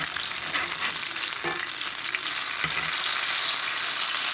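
Strawberry hand pies sizzle in a frying pan, a steady, close crackling hiss of hot oil that builds slightly toward the end, with no talking over it.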